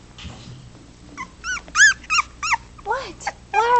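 A four-week-old puppy whimpers and yips in a run of high, wavering cries, several short whines in quick succession, close by and alone, with faint low background noise beneath.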